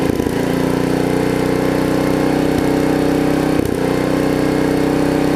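A Snapper RER riding mower with a broken governor runs steadily after ignition, its engine droning loud and close in an unbroken hum with a couple of brief dips in pitch.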